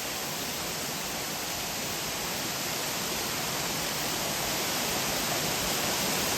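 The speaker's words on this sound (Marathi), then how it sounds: "तुम्ही बघू शकता एक नंबर असा धबधबा" A constant, dense rushing roar of a waterfall near Chiplun in Konkan, unbroken and even from start to finish.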